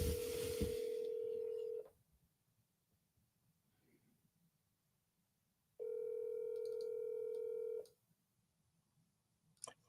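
A telephone being dialed shows two long steady tone bursts, each about two seconds, separated by a quiet gap, loud and clear with no voices.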